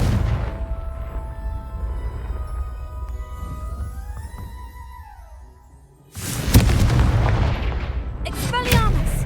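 Confringo blasting spell going off in the Hogwarts Legacy video game: a loud, sudden burst of broadband blast noise that hits after a quieter stretch of tonal game ambience and sustains for a few seconds with crackling debris.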